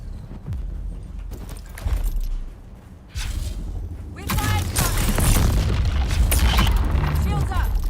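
Repeated heavy booms and blasts from grenades thrown in the Dune video game, set in the desert sands of Arrakis, arriving in bursts over steady combat noise with a few voice sounds mixed in.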